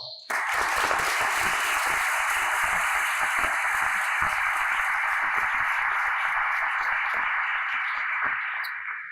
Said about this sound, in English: I think it would be appropriate, boys, for you to thank your parents by using a round of applause